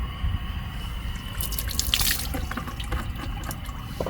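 Water pours steadily into a cooking pot of squash in a home-style kitchen, a continuous close splashing and trickling with faint drips, with no talking over it.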